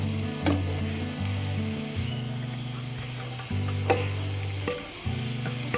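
Six medium onions soften in oil in a pot for okra curry, a continuous close sizzle marked by occasional sharp clinks and scrapes of stirring, with a steady low hum running underneath and no speech.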